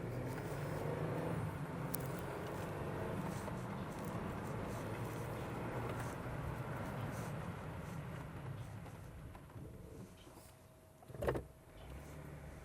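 A 2021 Jeep driving around at low speed while testing a brake controller: a steady low cabin rumble of road and engine noise, easing near the end, with a short clunk and no talking.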